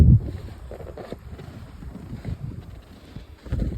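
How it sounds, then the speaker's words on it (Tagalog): Wind gusts outdoors on a bitterly cold, snowy Canadian day, buffeting the microphone with low rumbling bursts that are strongest at the start and end. "Medyo mahangin."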